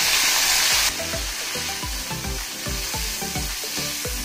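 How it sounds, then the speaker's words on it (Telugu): Finely chopped tomatoes sizzle loudly in a little oil in a pan, with a burst of hissing at first that settles into steady frying crackle and rhythmic scraping or stirring knocks. "ఇప్పుడు అదే బండిలో టమాటా ముక్కలు సన్నగా తరిగి వేసుకోండి."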